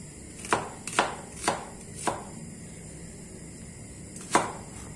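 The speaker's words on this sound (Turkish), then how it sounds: "soymuş olduğumuz soğanlarımızı yarım ay şeklinde doğrayalım" A knife slices onions into half-moons on a board: several sharp, distinct strikes in a loose rhythm, then a pause and one more chop, close by with no talking.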